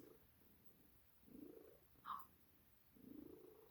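A cat purrs softly and close in slow rhythmic waves, with a brief higher chirp or mew between the purr cycles in an otherwise quiet room.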